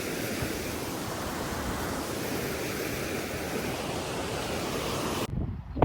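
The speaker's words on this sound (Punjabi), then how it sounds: "ਥੱਲੇ ਪਾਣੀ ਬਹੁਤ ਜ਼ਿਆਦਾ ਤੇਜ਼ ਚੱਲ ਰਿਹਾ" A fast-flowing mountain river rushes beneath a wooden footbridge in the Himalayan hills, a loud, continuous roar of water that drops away abruptly near the end.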